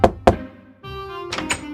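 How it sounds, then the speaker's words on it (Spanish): Two firm knocks on a door, close and loud, followed by a sustained tonal swell with a couple of sharp accents, no talking. "Voy a tocar la puerta."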